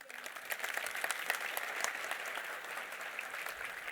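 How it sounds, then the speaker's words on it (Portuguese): An audience at a business conference claps for Daiane, a lively steady patter of many hands that swells briefly and holds at moderate volume. "Uma salva de palmas para a Daiane."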